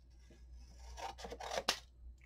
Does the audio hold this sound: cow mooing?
no